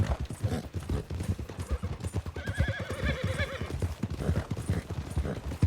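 Hoofbeats clip-clop in a fast rhythm as a horse named IO Silver, a Foxy-type mount, gallops through a snowy winter endurance race in Red Dead Redemption 2, with a loud whinny rising above the steady pounding midway through.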